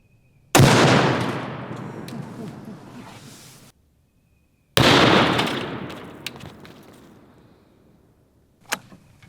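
Two loud rifle shots from a .338 Lapua fired into ballistics gel blocks outdoors, each a sharp blast that rings and decays over about three seconds, followed by a couple of fainter distant cracks.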